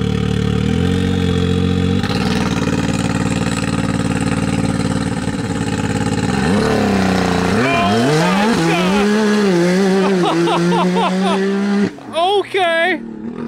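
A 350 hp Can-Am Maverick R with an Evo Stage 5 tune runs on launch control set to 3,800 RPM. The engine holds a loud, steady rev, then launches and accelerates hard through rising sweeps and gear shifts.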